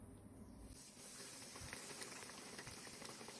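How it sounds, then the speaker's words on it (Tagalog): A breaded pork chop fries in a pan over low heat, giving a steady broadband hiss and sizzle with light crackling pops that thickens after the first second, with no voices. "Prito na natin."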